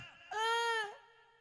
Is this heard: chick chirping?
no